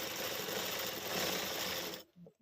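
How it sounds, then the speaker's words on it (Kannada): A domestic sewing machine running a fast zigzag stitch on a saree, a rapid close mechanical whirr that holds steady for two seconds and then stops abruptly, leaving faint handling sounds. "ಇದೇ ಸೀರೆ ಇದೇ ಮಿಷಿನಲ್ಲಿ ಆರಾಮಾಗಿ ನೀವು ಜಿಗ್ ಜಾಗ್ ಥರನೇ ಮಾಡ್ಕೋಬೋದು"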